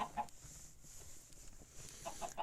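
A video game chicken clucks in a house, a few quick faint clucks at the start and again near the end over a quiet background, with no talking.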